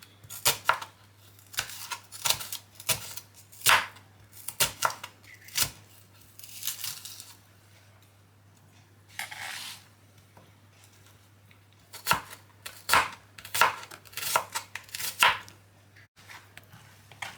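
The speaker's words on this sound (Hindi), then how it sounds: "प्याज को हमने काट लिया" Onions sliced with a knife on a cutting board for vegetable pulao, with crisp, regular chops in bursts and a short pause midway. The chopping is close and clear, with no talking.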